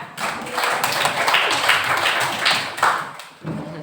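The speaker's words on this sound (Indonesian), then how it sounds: "Tepuk tangan juga." Classroom group applause during a teaching practice session, a dense burst of hand clapping from a small crowd, close and steady for a few seconds before tapering off.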